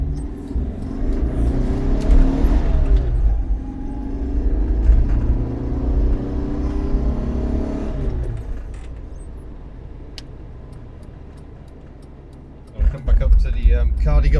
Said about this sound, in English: we can just about blag a quick drive around Cardigan